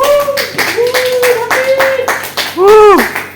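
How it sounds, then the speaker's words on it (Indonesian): Scattered hand claps from a classroom audience of students, rhythmic and fairly close, running under a talking voice throughout. "Ayo tepuk tangan dulu dong"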